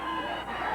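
A referee's whistle chirps at a 1987 Stampede Wrestling match, a short, high, warbling tone heard clearly and alone for under a second.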